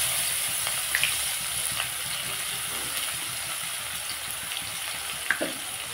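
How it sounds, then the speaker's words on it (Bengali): Chopped large onion frying in oil with black cumin seeds, a steady close hiss of sizzling with a few faint clinks of stirring, no voices. "পেঁয়াজটাকে আমি ভালো করে ভেজে নেব।"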